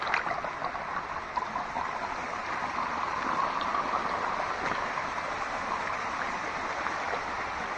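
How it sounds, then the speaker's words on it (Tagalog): Running water pours steadily through an irrigation channel feeding newly planted crops on a Benguet farm, a continuous close splashing rush with no talk. "Tubig po ito din sa bagong tanim namin."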